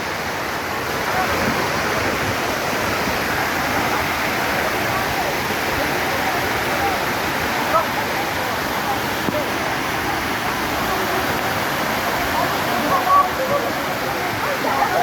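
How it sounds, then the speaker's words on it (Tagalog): Water pours down steadily at Daranak Falls, a close, loud and unbroken roar of falling water that holds constant throughout. "Ang sarap ng pagbagsak ng tubig."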